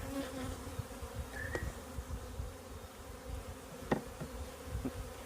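Honey bees buzzing inside a small nuc hive box holding few bees, a low steady hum with scattered brief buzzes and a couple of light knocks, fairly quiet and close, with no talking.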